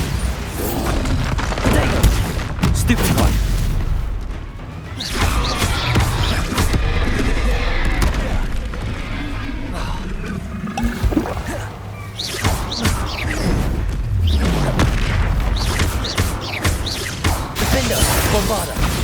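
Bombarda explosion spells in Hogwarts Legacy battle against trolls, repeated heavy booms and crashes with whooshes amid loud combat noise, with voices occasionally heard.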